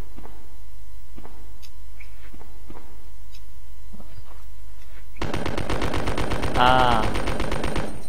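Submachine gun fire in Resident Evil 2 on PS1, a dense burst of rapid shots that begins abruptly partway through and runs loud to the end, after quiet footsteps-like ambience, with a brief spoken exclamation.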